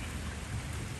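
Heavy rain falls outside a bookshop onto its patio on a Sunday morning, a loud, dense and continuous wash of drops with a low rumbling undertone and no voices.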